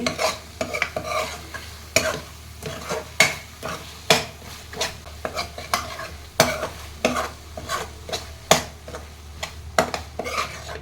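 Tomato thokku fries in a pan as a spoon stirs and taps against the metal in repeated sharp scrapes and knocks, close and loud over a constant low sizzle.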